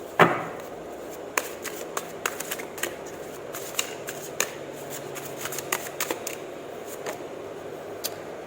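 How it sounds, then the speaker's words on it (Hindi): Tarot cards are shuffled close by, giving a sharp initial riffle followed by a steady run of soft, irregular flicks and taps as the deck is cut and mixed. "कार्ड्स निकाल लेती हूँ गाइस, फिर थोड़ा सा एक्सप्लेन करती हूँ।"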